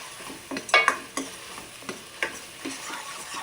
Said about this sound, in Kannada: ಇದು 1-2 ನಿಮಿಷ ಫ್ರೈ ಆಗಬೇಕು.